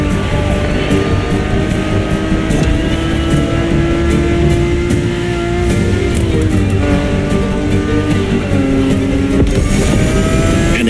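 Ferrari supercar engine in The Crew Motorfest racing game, heard from inside the cabin as a loud, steady high-pitched drone with shifting harmonics and brief gear-change dips, running continuously with no talk.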